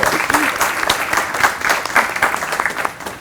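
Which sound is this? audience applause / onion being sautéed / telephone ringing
audience applause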